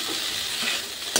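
Flattened rice (chira) being stirred and fried in a pan in a village kitchen gives a brief, steady dry sizzle and hiss, ending with a short scrape of the spatula.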